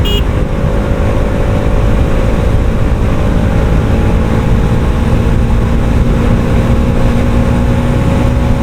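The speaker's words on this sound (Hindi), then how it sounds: "इसलिए जो है मैं बाइक भगा रहा हूँ" Motorbike engine while riding a bike fast on a road, a continuous loud rumble mixed with heavy wind buffeting throughout, no voices.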